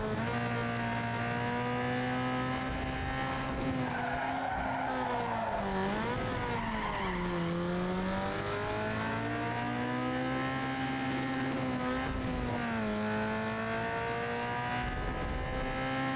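Car engine in Need For Speed Underground 2 holding a steady high drone while tires squeal and skid through a long drift, pitch bending as the car slides, loud and continuous with no talk.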